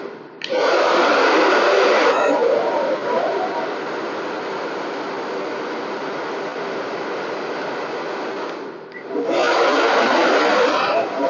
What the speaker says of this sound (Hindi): ये देखिए कहीं ना जब ये ड्रायर चलता है तो उसके साउंड से पता चल जाता है कि उसका मोटर का स्पीड कितनी है